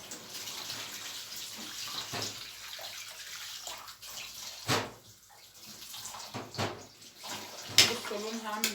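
Water poured from a vessel onto browned chicken in a cooking pot, a running splashing pour with bursts of sloshing and a few sharper clinks, close and fairly steady, with occasional voice in the background.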